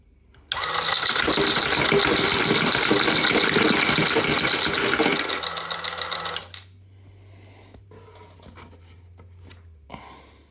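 A coin sorting machine runs through silver dimes with a loud, dense mechanical whir and clatter for about six seconds, then stops, leaving quiet hum and a few faint clicks.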